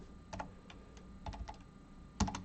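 Quiet bursts of typing on a computer keyboard, irregular clusters of key clicks with short pauses, close by.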